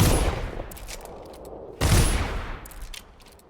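Enemies in the video game Dishonored fire guns in two sharp bursts of gunfire, each followed by a crackling rattle of shots, heard up close with no talking.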